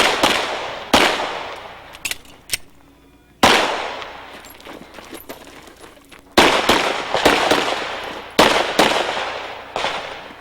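Pistol gunfire at an IDPA shooting match, with sharp, loud reports fired in quick strings and doubles and short pauses between bursts, each crack ringing out across an open range.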